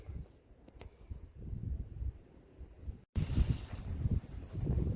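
Strong wind gusts on a windy night along a hiking trail near windmills, roaring and buffeting the microphone in uneven waves with a short dropout partway through.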